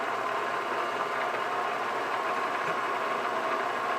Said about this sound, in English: I'm going to turn my machine on, and I'll run it up to a couple hundred RPMs